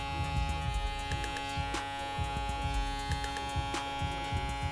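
An Instinct cordless electric shaver with a lithium battery runs with a steady, close, loud hum and a rhythmic throbbing buzz underneath, with no talking.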